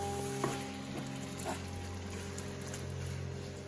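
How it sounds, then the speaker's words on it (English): Crushed tomato cooking down in a pan in Santorini, Greece, giving a faint, steady sizzle and bubbling hiss, with a couple of soft clinks near the start. "now I'm gonna add my crushed tomato. Let this cook down."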